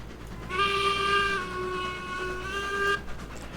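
A train in the Railroads Online video game sounds a loud, steady whistle for about two and a half seconds over a low rolling rumble, then the whistle cuts off sharply.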